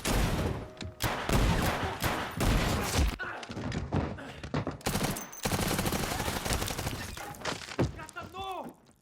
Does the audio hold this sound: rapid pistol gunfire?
yes